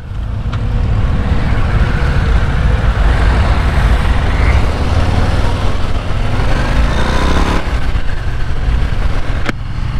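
A 2023 Harley-Davidson Fat Bob motorcycle being ridden, heard as a loud continuous engine drone mixed with heavy wind rush throughout.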